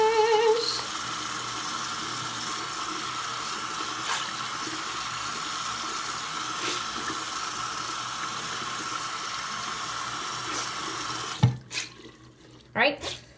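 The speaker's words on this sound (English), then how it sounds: "gives you the gist of how to wash your brushes" Makeup brushes are washed under a running tap, a steady splashing water stream that runs close and continuous, followed near the end by a few louder sloshing and squishing sounds as the flow stops.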